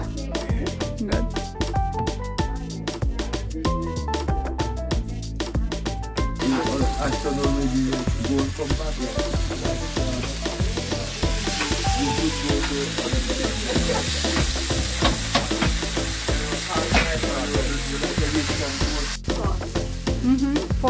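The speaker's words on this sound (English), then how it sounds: "Fry onion with what? With the sauce from carrot" Onion fries in carrot sauce with a continuous loud sizzle and bubbling, stirred now and then, while people talk quietly in the background.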